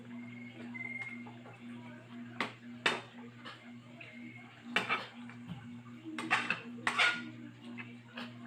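Pork caldereta with potatoes and carrots being stirred in a cooking pot, a few distinct metallic clanks and scrapes of a spoon against the pot over a steady low hum, with a voice heard faintly.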